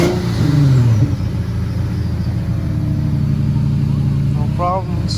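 A 2000s Infiniti G35 with a VQ35HR V6 idles steadily after an alternator replacement, a continuous low engine rumble with a brief rev near the start; a voice speaks briefly over it.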